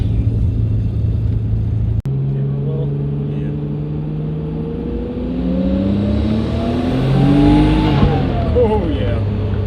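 Nissan Skyline R32 engine idling and warming up after a coil pack swap, a steady close rumble with a sharp click at two seconds, then rising revs and a gradual climbing whine as the engine is blipped, with no talk over it.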